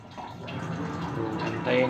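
Water pours steadily into a Panasonic NA-F70S10 7 kg washing machine as it fills, a continuous close rushing and splashing that swells slightly near the end, with no speech over it.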